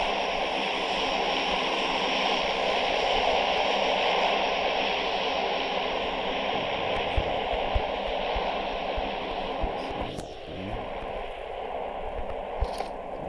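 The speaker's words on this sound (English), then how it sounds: "I hear a plane." A steady droning aircraft engine from a plane flying overhead in the video game PUBG hums at moderate volume throughout, with a few faint clicks and a brief swoosh near the end.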